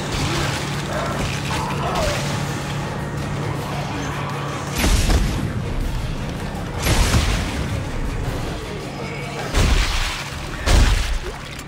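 The line gun in Dead Space 3 fires in several heavy, booming bursts spaced a few seconds apart over continuous game noise, and a voice talks intermittently.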